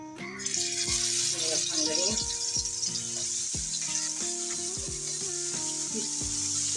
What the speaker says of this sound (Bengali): এখন মাছগুলো ভেজে নেব।